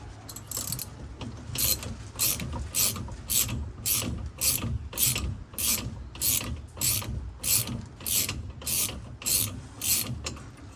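A socket ratchet loosens the steering wheel nut on a boat's flybridge, clicking in a fast, regular series of sharp ratcheting strokes, close and alone for about ten seconds.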